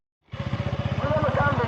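A motorcycle starts up and runs with a steady, throbbing engine pulse close by, holding a rapid regular beat after a brief silent moment at the start.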